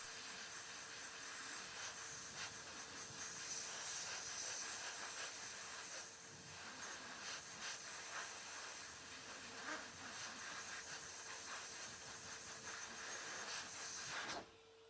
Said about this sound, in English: This is a pet dryer that I bought off Amazon.